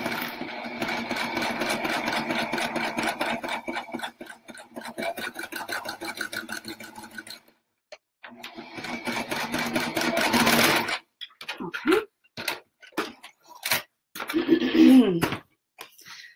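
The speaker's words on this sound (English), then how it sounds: "And just sew right over our line here." Domestic sewing machine stitching a seam across a triangle-patterned placemat, running in steady rapid bursts with brief pauses between runs, close and clear, with a voice speaking at times.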